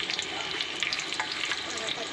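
Bay leaf and fennel seeds fry in hot oil for a hotel-style chicken dish, giving a steady, close sizzle with crackling pops throughout, and no voices over it.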